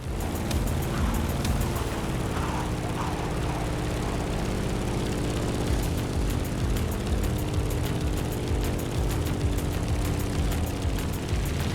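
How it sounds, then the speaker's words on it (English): A Grumman F8F Bearcat propeller fighter plane flies in the racing game The Crew Motorfest, a loud, continuous engine roar and drone that holds steady throughout. "In the cockpit of a stunning Grumman F-8F Bearcat, or simply the Bear."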